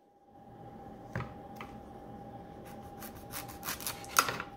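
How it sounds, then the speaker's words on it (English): Kitchen knife slicing both ends off a butternut squash on a board, two or three soft crisp chops and some rubbing against a faint steady hum, quiet and close. "we're going to go ahead and cut both ends of this butternut squash"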